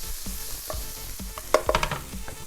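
Shakshuka ingredients, peppers among them, frying and being stirred in a pan: a soft continuous sizzle with light scraping strokes of a utensil, a brief cluster of sharper clatter midway, no voices.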